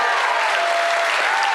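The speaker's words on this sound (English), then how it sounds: "Oh, you clapped for that one." Audience applause at a live movie draft show in Chicago, a dense, steady burst of clapping filling the room at even loudness, with no voices rising above it.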